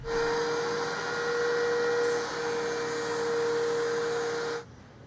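A router on a router table cuts a key slot in a box joint jig with a steady, loud, high motor whine and a cutting hiss, close by, for about four and a half seconds before it stops abruptly.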